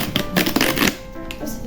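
Crisp crinkling and rustling of baking paper being handled close by, in quick irregular bursts.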